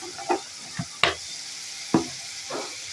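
Prawn and pointed gourd curry with potatoes is stirred in a pan, a few sharp spatula scrapes and knocks over a quiet, steady sizzle.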